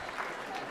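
Short burst of audience applause and crowd noise at a stand-up comedy show, a steady wash of clapping at moderate level with no talk over it.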